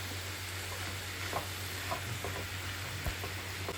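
Banana stem stir-fry with beans being stirred in a pan: a quiet, steady sizzle runs throughout, broken by a few soft scrapes and taps of the spoon over a low background hum.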